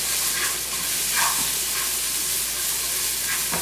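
Onions frying in oil in a pan for a cheesesteak, a constant close broadband sizzle and crackle with occasional stirring scrapes, no talk.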